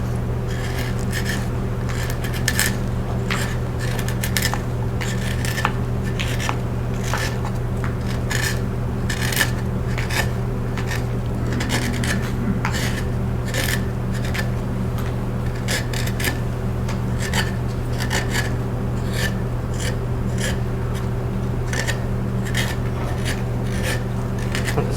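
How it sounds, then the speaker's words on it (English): A gouge carves a wooden widgeon decoy body in a series of short, repeated scraping cuts in a steady rhythm, close and distinct over a low background hum. "Use that tighter gouge again."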